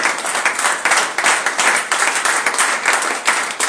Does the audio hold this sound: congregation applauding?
yes